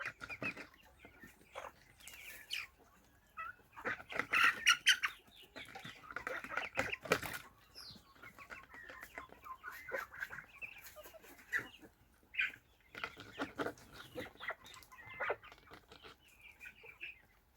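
Chickens and young chicks cluck and chatter nearby in irregular bursts, with occasional louder squawks and rustling between the calls.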